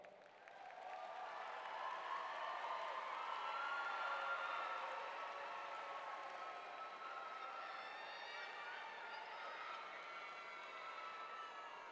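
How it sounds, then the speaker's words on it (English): A 2017 graduation audience applauds and cheers in a large hall, a sustained wash of clapping with voices mixed in, swelling and then holding steady. "Give them a round of applause."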